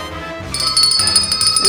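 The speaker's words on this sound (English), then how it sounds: "I'm again with the bell." A hand bell rings out brightly and repeatedly in a live cafe-style studio show, starting about half a second in and carrying a sustained shimmering tone, loud and close.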